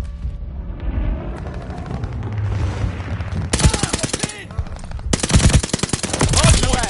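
Video game gunfire during a hardpoint match, rapid automatic bursts crackling in close, loud volleys over a rumbling background, with announcer-style voice lines in between.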